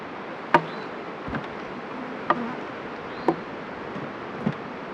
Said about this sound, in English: So we'll shake all those bees down in there.